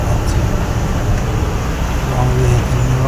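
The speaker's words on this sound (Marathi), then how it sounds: "लॉंग व्हेकल बघता का तर 8 टायराची गाडी असेल" A long eight-wheeled truck rolls past on a descending ghat road with speed breakers, a steady broad rumble of engine and tires holding close and loud throughout without letup.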